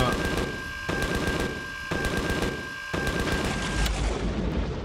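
Rapid video game gunfire in Empyrion rattles in three sustained bursts, each about a second long with brief gaps between, loud and close over a constant background hum.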